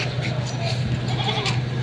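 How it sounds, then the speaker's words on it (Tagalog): Goats bleat at a livestock market in Padre Garcia, Batangas, with repeated calls over steady crowd murmur and nearby voices talking. "May 3 kambing si Kuya dito binibenta."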